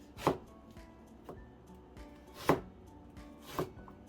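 A knife slices through an onion on a cutting board in four sharp, separate cuts spaced about a second apart, close and crisp against a quiet background.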